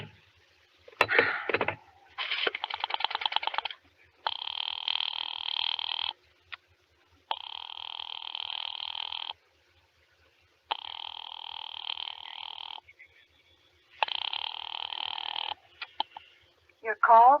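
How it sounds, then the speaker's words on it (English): A telephone line keeps returning a busy signal, its repeated buzzing bursts separated by short gaps after a few opening clicks and dial sounds, with a voice briefly at the end. "I've been dialing Murray Hill 70093 now for the last 3/4 of an hour, and the line is always busy."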